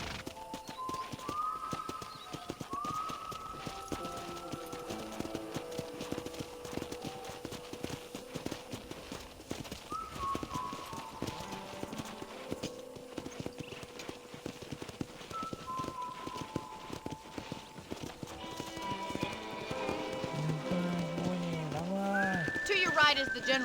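Steady clip-clop of horse hooves at a trotting rhythm in Red Dead Redemption, under game music, continuing throughout at moderate loudness.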